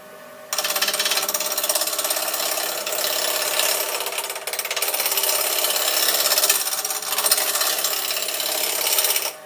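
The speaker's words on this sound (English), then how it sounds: "Making fine movements from left to right, I will reduce the size of the timber." Wood lathe with a turning tool cutting into spinning timber, a loud continuous rough whirring drone that runs steadily for several seconds with a brief dip midway, close up and without speech.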